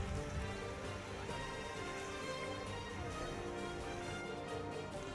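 Heavy monsoon rain falls steadily across a city in Surat, India, a constant dense hiss of drops on surfaces with no pauses and no voices.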